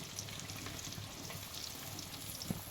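Onions frying in hot ghee while a chicken leg ghee roast is prepared, a soft, continuous crackling sizzle heard close and alone, with a faint stir near the end.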